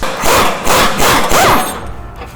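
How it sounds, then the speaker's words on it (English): A 15/16 socket wrench turns the rear shackle bolt on a new Ford F250 during a suspension lift install, making four loud, close, grinding ratchet strokes in a row. "we're gonna use a 15/16 socket to remove the rear shackle"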